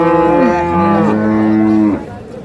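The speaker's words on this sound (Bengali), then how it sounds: "এই যে দেখছেন মাংসের গরু," Beef cattle at a market before Qurbani, one loud, close moo lasting about two seconds with a wavering pitch, then quiet.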